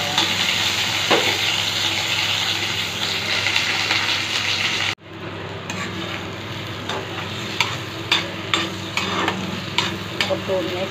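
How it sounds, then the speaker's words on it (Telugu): Curry leaves and onions sizzle in hot oil in a pan for ridge gourd chutney, a loud continuous frying hiss that briefly cuts out, then resumes more softly with scattered scraping stirs and clinks. "అందులోని కరివేపాకు ఆనియన్స్ ఫ్రై అయ్యేలాగా చూసుకోవాలి."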